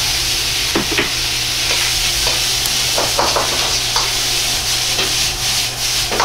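Wood ear mushrooms and bacon sizzle in a pan under steady, close stir-frying, with a constant frying hiss broken by repeated scraping and tapping of a utensil.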